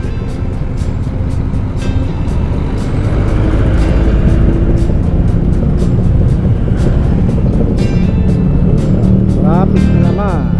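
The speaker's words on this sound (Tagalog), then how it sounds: "Traffic na naman." Steady road traffic rumbles on a congested route near SM City Tanza in Cavite, a constant low engine drone with passing vehicles and occasional horn-like tones, loud and unbroken throughout.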